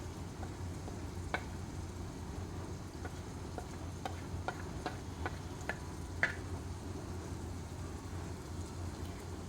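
Ground spices (red chilli powder, coriander powder, cumin powder) with cumin seeds fry in a pan for an ivy gourd dish, giving a faint, steady sizzle with scattered light clicks of stirring throughout.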